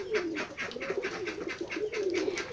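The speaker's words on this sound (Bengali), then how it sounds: "তাহলে দেখছেন আমাদের এই খামারের কবুতরগুলো দেখতে মাশাআল্লাহ অনেকটাই সুন্দর" Pigeons on a pigeon farm coo in a steady run of soft, repeated throaty calls, several birds close by overlapping in a rolling rhythm with no talk.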